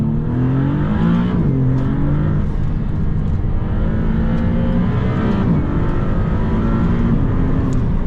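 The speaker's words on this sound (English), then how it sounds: "Let's go ahead and put it in drive and show you exactly what it's like to drive the MC20 from a first-person point of view" Inside a 2022 Maserati MC20 with a 621-horsepower engine, heard from the driver's seat, the engine drones constantly and loudly, its pitch rising and dipping as the car accelerates and shifts, over steady road and wind noise.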